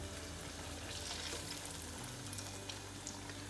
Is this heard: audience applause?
no